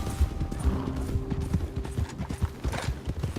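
Horses ridden in Red Dead Redemption 2 thud along in a steady clip-clop of hooves, close and fairly loud over a low outdoor ambience.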